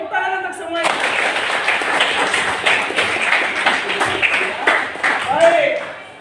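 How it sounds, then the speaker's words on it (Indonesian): Students in a classroom break into applause, a dense burst of many hands clapping that continues for several seconds, with a voice talking briefly before and over it. "Tepuk tangan untuk semuanya."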